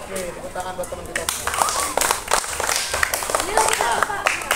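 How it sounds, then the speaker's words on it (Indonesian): Scattered clapping from a primary school class during a pencak silat kicking lesson, uneven and somewhat sparse, mixed with children's voices and movement noise. "Oke, tepuk tangan buat teman kita."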